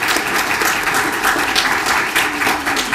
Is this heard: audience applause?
yes